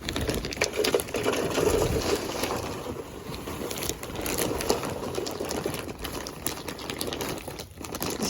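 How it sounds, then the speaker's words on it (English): Miracle-Gro standard potting mix scooped into a recycled bucket: steady close rustling, crunching and gritty pouring that runs continuously with small bumps throughout. "And then I'm going to fill this up with some potting mix,"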